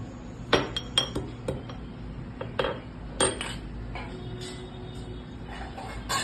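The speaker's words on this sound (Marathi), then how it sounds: "आता पाण्याला जरा उकळी येईपर्यंत आपण ही थोडीशी तुरटी बारीक करून घेतो" Small lumps of alum being crushed finely in the kitchen, a series of sharp clinks and taps against a hard vessel, irregular and close, with scraping in between and no talk.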